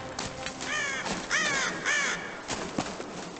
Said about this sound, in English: That bird looked yummy.